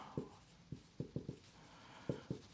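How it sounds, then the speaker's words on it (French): Chalk or marker writing on a board during a maths explanation: a few short, sharp taps and strokes in irregular bursts, close and clear against a quiet room. "Je vais écrire ça"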